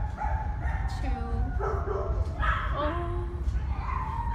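Dog in a shelter kennel, a three-year-old male, giving short yips and whimpering barks over a loud, constant low rumble of background noise.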